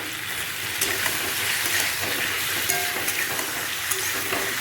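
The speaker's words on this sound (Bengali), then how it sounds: "এখন এটা আমি মশলা দিয়ে হলুদ দিয়ে এটা আমি ভাজছি" Pumpkin and yardlong beans fry in a pan with spices, turmeric, salt and tomato. A continuous close sizzle is broken by light scraping stir clicks and small pops, with no voices.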